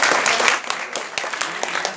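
Loud, enthusiastic audience applause at a World Peace Day seminar at a school in Chhatarpur, Madhya Pradesh, a dense, close burst of many hands clapping that eases slightly midway and continues steadily to the end.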